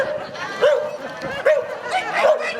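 Dogs bark and yip repeatedly in short, close bursts, with some whimpering mixed in.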